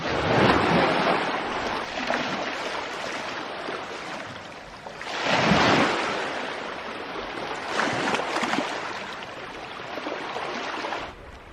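Surf rolls onto the beach at Kynance Cove in Cornwall, a broad continuous wash of breaking waves that swells and recedes in slow surges, close and fairly loud, with some wind and no voices.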